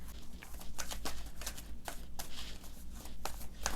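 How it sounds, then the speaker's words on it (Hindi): Tarot cards handled and shuffled during a January reading for Gemini, a close, steady run of papery riffles and soft slaps repeating without a break and with no voices. "सबसे पहले मैं यहाँ से मास्टर कार्ड्स ले रही हूँ जनवरी के मंथ के लिए आपके लिए।"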